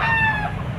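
Young rooster (stag) at a livestock market in Padre Garcia, Batangas, giving a short, close, harsh crow that trails off in under a second.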